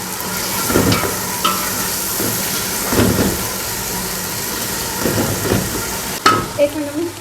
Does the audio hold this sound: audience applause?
no